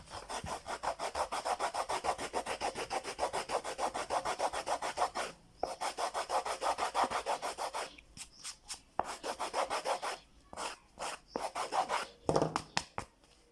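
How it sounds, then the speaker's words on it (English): A hand tool rasps along the edges of handmade sandal soles in quick, rhythmic back-and-forth strokes, steady at first, then broken into short bursts with brief pauses. "If you don't have, this is a good tool for you to sand the edges."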